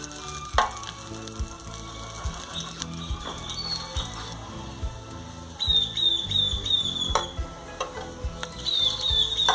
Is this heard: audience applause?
no